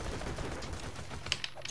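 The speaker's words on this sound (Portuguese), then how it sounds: "Ah, tem 2 atirando em mim." Rapid gunfire from several enemies in the video game Borderlands 2, a dense, continuous burst of shots with a few sharper cracks near the end.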